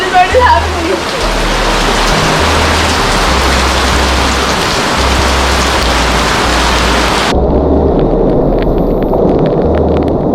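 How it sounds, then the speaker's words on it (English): Heavy rain pours down steadily on a camping spot, a dense, loud, continuous hiss with deep rumbling thunder-like low end throughout and no break. "It's raining cats and dogs."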